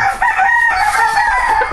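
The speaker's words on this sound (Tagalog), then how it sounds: "ito ang aking stag na Larry Carter Golden Halsey na 9 months old" A nine-month-old Golden Hulsey gamecock stag crows once, loud and close, a drawn-out, slightly rough call that fills the whole moment with no talking.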